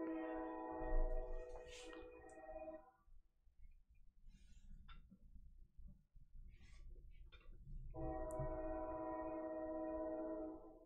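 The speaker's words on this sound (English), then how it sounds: "There's the train in the background." A train passes at a distance, its horn sounding in two long, sustained blasts separated by a quieter rumbling stretch, with low rail noise running underneath throughout.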